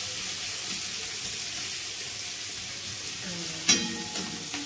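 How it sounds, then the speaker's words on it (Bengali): Green peas fry in a pan for Bengali fried rice, giving a steady close sizzle throughout, with a few faint clinks and stirring sounds near the end. "এবার ডিম কড়াই আর মটরশুঁটি দুটো ভাজা হচ্ছে।"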